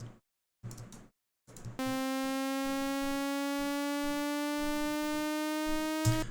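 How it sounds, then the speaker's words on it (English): A sustained, buzzy synth tone with a slow upward pitch bend, entering after a few short beats and holding steady to the end. "Typically for a riser effect like this,"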